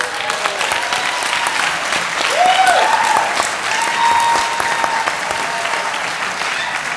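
Steady audience applause fills a high school senior awards and National Honor Society cording ceremony, continuous clapping throughout with a brief tonal sound in the middle.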